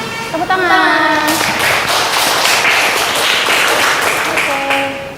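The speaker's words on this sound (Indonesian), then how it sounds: "Tepuk tangan." Applause from a classroom audience, a burst of quick, close clapping that fills several seconds, with voices speaking briefly at the start and again near the end.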